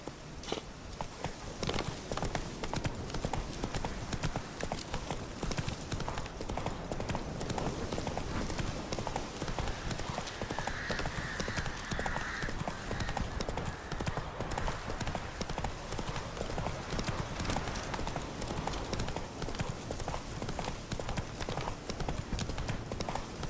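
Horse hooves clip-clop steadily in The Witcher 3 as a horse is ridden at a walk, a continuous, even rhythm under soft game ambience.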